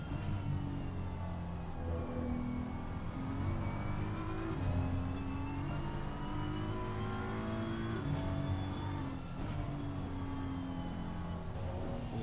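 Several race cars circling Brands Hatch in Assetto Corsa Competizione, their engines droning steadily with overlapping revs and gear-shift pitch sweeps, continuous and fairly close throughout.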